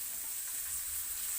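Onions frying with garlic in oil for a dal tadka, a steady, soft, close hiss of sizzling with no talk over it.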